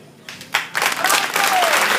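Crowd applause at a tourism festival in Dimbokro, Ivory Coast, building quickly from scattered claps into dense, sustained clapping with some voices mixed in.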